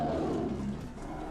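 A horrible animal roar somewhere between a lion and a bear, a single sustained growl heard up close and loud, with no talking.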